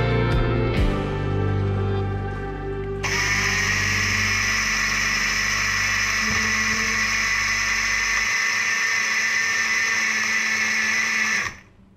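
A food processor grinds homemade marzipan almond paste with powdered sugar: a short rattling start, then a loud, steady high whir that runs for several seconds before cutting off abruptly.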